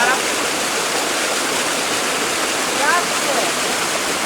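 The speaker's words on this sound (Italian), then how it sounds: "abbiamo una piccola cascatina d'acqua" Small waterfall pouring steadily outdoors near Dardago, a constant broadband rush of water filling the whole clip, with a short spoken word over it.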